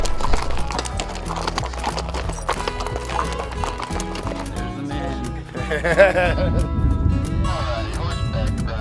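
Steady hooves of a ridden horse clip-clopping close by on a ranch, with a horse whinnying and music playing underneath throughout.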